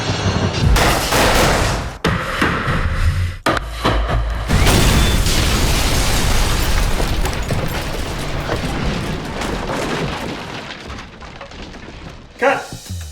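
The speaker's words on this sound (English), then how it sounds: "Behind them are propane cannon mortars." Propane cannon mortars firing behind a house front fitted with breakaway glass for a film stunt, producing loud, sustained roaring blasts with a few sharp cutoffs. A final small burst comes near the end, and voices are mixed into the din.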